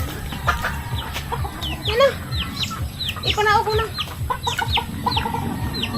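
Several hens cluck repeatedly in short bursts, fairly close, amid busy farmyard noise with a person speaking briefly.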